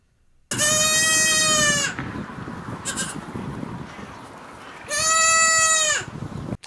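A baby goat gives two loud, close, drawn-out bleats, each lasting over a second with a wavering tone, separated by a quieter stretch of background noise.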